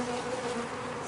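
Worker honey bees drone steadily at an open hive while a queen is moved into a push-in cage, a dense close buzzing that holds level throughout.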